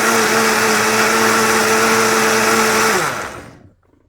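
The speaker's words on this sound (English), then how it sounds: "I'm getting ready to blend the ginger up with just a little bit of the juice." A blender whirs loudly and steadily up close as it blends ginger with a little juice, holding an even high-pitched drone for about three seconds before spinning down and cutting off.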